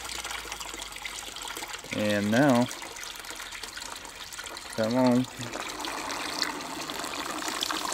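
An aquaponic bell siphon draining about five gallons of water gives a steady trickling, gushing flow throughout, with two brief bursts of voice over it.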